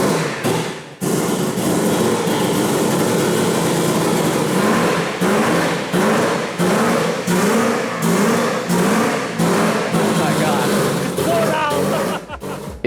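A rotary-engined car in Bangkok's street car scene revs hard in repeated bursts toward a 10,000 rpm redline, loud and close, with the blips rising and falling rhythmically and voices talking over it.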